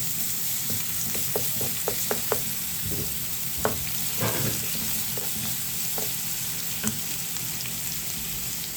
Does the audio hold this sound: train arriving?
no